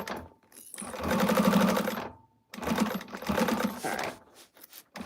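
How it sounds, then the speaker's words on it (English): A sewing machine stitches down the sides of a quilted bag in two bursts of fast, even whirring, separated by a brief pause and followed by a few short stitches, close and clear with no voices. "we're going to sew down the sides first"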